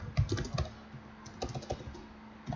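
Keys clatter on an RGB computer keyboard in short, close, irregular bursts with brief pauses, with no talking over them.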